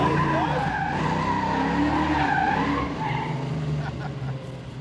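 A modified AMC Gremlin fitted with a Hemi engine squeals its tires in a smoky burnout, a loud continuous skidding screech with engine roar underneath, easing off slightly near the end.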